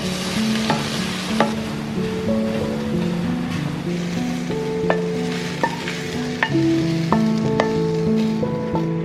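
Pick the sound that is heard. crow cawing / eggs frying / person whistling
eggs frying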